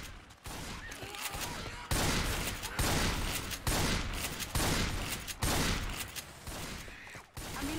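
Shotgun fire in the co-op zombie shooter Left 4 Dead 2, a series of loud, evenly spaced blasts roughly every second, each separated by brief gaps, with battle noise between them.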